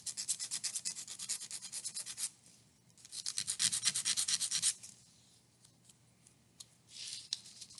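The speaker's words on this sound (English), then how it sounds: "Maybe sand just a teeny bit" A small part of a Delta Dart balsa model plane is sanded by hand in quick back-and-forth strokes, two bursts of rapid close rasping separated by a pause, then lighter scattered scratches.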